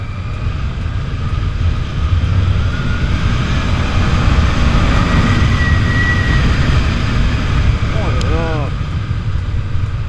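A dragster-style road motorcycle accelerates hard, a loud low engine roar with rushing wind that swells and holds steady, ending with a brief rising whine; a rider talks over it.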